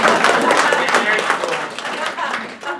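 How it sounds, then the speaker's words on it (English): An audience at a talk breaks into applause, a dense crackle of many hands clapping that carries on steadily, with some voices mixed in. "Let's give him an applause."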